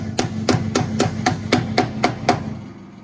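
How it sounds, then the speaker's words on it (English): Repeated hammer blows drive a wheel weight onto a rim at a tire and balancing shop, nine sharp even metallic strikes in quick rhythm, close and alone. "You install the weights at 12 o'clock, always straight up from the spindle. 12 o'clock, get it on there, and then just hammer it on."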